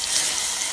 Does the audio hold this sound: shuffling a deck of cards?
no